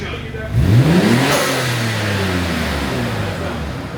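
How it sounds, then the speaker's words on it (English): A Nissan GT-R's RB26DETT engine revs sharply up, then settles into a loud, steady, throaty drone, heard close up and outdoors. "Hey, that sounds like a GTR should."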